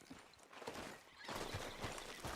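A horse whinnies faintly in the video game Red Dead Redemption 2, followed by rhythmic clip-clop of hooves that grows louder toward the end, with no talking.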